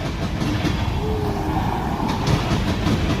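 A train with a locomotive rumbles through a train station, a steady loud rolling roar with faint rail clatter and a brief squeal, with no talking.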